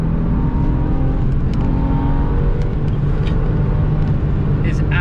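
Engine of a 2000 Porsche 911 996 Millennium Edition with a 3.4 liter flat-six, a loud sustained drone and rev from inside or near the car, steady throughout with faint clicks above.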